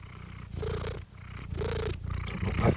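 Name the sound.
cat purring loudly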